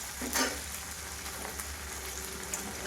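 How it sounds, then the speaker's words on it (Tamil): Tomatoes and onions fry in a pan for a pumpkin stir-fry, giving a steady, dense sizzle with a few sharper crackles and stirring taps near the start. "தக்காளி போட்டு நல்லா வதக்கிட்டோம்"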